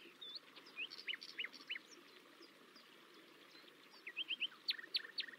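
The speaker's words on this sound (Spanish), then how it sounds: "Notas los cantos tan diversos y armoniosos de los pájaros y otros animales." Birds sing in a green forest full of large trees, scattered chirps and tweets coming in short clusters over a soft steady hush, fairly faint and with no voices.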